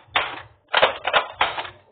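Three close, crisp snapping bursts from a Nerf foam blaster, each a short clattering pop with mechanical rattle, spaced roughly half a second apart in a quiet setting.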